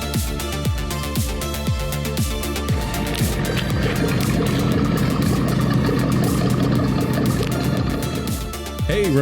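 A car engine idles with a steady low rumble and rhythmic pulsing, then grows busier and louder before easing off near the end.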